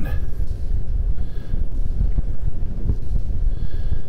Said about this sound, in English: Wind is definitely picking up, but it is pretty.